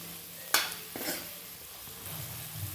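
Softened tomatoes cook in oil in a pan for a dal and fenugreek dish, with a sharp utensil knock followed by a faint, steady sizzle and light stirring nearby.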